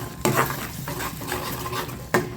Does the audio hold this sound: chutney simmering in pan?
yes